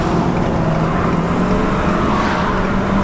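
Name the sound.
2019 Ford F450 6.7L diesel truck accelerating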